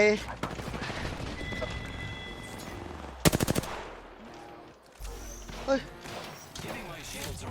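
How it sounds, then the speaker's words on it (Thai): Gunfire in the Apex Legends video game, with a sharp burst of rapid automatic shots midway among other shots and game effects, and a player talking throughout. "ยิงแหลกไม่สนลูกใคร"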